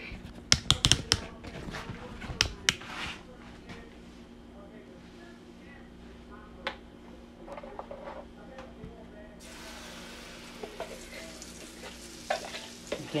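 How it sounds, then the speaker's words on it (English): Cornbread batter frying in a hot skillet during Southern home cooking, a soft steady sizzle with sharp spoon and pan clinks early on and a brighter hiss building in the second half, close up. "You can hear it frying."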